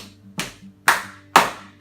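Sharp hand claps come at a steady, even pace, three loud claps with a fourth starting as the sound ends, during a strength and balance warm-up exercise, with a faint hum and no talk between them.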